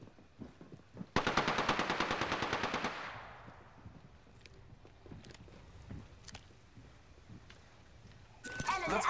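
Automatic gunfire in the battle royale game Apex Legends, a loud rapid burst lasting almost two seconds, followed by quieter game sounds and a couple of distant shots.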